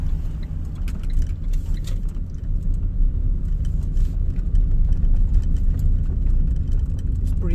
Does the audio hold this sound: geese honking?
no